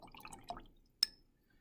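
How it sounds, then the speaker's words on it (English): A paintbrush dipped into water: a soft brief wet clink and slosh, then a sharp small drip-like tap a moment later, close and quiet against near silence. "and you dip her in the water"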